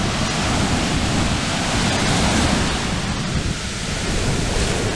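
Surf washing steadily onto a beach in Cancun, a continuous broadband roar of breaking waves with no pauses, fairly loud and close, no voices.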